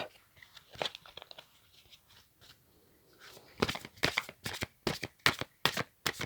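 Oracle cards are shuffled and drawn close up: soft, scattered riffles at first, then a run of sharp, crisp card-shuffling bursts in a quick, uneven rhythm.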